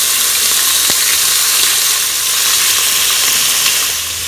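Pork ribs brown in a La Gourmet multi-cooker with steady, loud, close frying sizzle and hiss, with a few faint pops and clicks.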